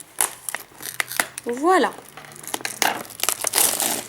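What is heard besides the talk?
cutting open Pokémon collector box packaging with scissors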